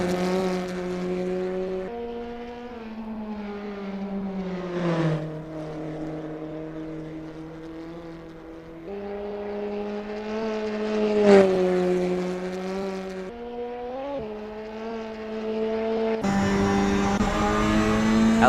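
Opel GT Gr4 2000 TF73 race car engine in Assetto Corsa racing at Prague, a steady loud drone with shifting pitch through gear changes and acceleration, no talk.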